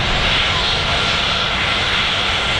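Jet2 airliner with jet engines roaring at Manchester Airport, a loud, steady broadband rush that fills the whole stretch without letup.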